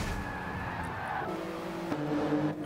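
A GR Yaris race car during a race, shoved into a barrier and spun backwards, with a steady engine drone, shifting tones and faint skidding, heard close and continuous.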